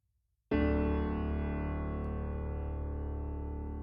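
A soft worship piano from Kontakt's The Giant instrument plays a single sustained chord that rings out and slowly decays, clean and alone after a brief silence.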